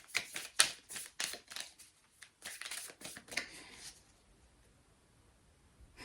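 Tarot cards being shuffled and drawn, a quick run of crisp riffling flicks and slaps for several seconds, then fading to near silence; no speech.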